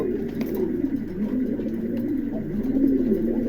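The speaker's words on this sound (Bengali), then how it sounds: "দেখেন অ্যান্ডুলেশন, খুবই চমৎকার একজোড়া কবুতর আছে" A pair of Andalusian fancy pigeons coo steadily and close by, their low rolling calls rising and falling without a break and with no voices over them.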